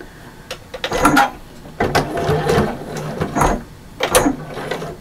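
A sewing machine stitches around all four sides of a small fabric bag, running in several close, loud whirring bursts separated by brief pauses.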